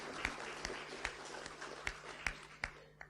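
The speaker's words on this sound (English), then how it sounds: "Please, can you share with me a round of applause?" Sparse, faint clapping from a small audience at a conference's closing remarks, with distinct individual claps spaced irregularly over a quiet room.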